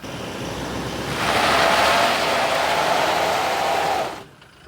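A Toyota Fortuner Legender 4x4 with traction control switched off revs hard and spins its tires, a loud broad roar that swells, holds for about three seconds, then cuts off.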